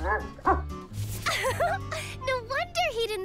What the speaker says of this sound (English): He's been your dog all along.